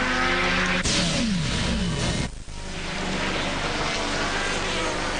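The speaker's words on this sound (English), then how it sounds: "the Lister Storm motoring away from the Labra competition Viper" Lister Storm GT race car engine racing at Magny-Cours in the 2002 FIA GT Championship opener: a loud, steady, close roar with rising and falling harmonic tones and a brief dip near the middle, no talk.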